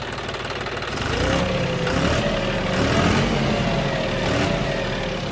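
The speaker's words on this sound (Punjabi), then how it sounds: "ਲੈ ਬਾਈ ਟਰੈਕਟਰ ਕਰਤਾ ਸਟਾਰਟ ਤੇ ਤੁਰ ਪਾਤਾ ਹੈ ਨਾ" A 5210 tractor engine runs steadily after starting, a continuous close, loud diesel drone with a faint wavering whine and no talk over it.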